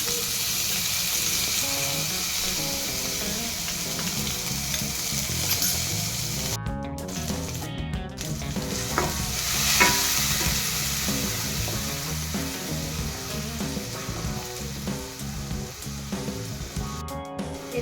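Steady, close sizzling and crackling of chopped onions frying in hot oil in a pan, with occasional stirring clinks and brief pauses, no voices.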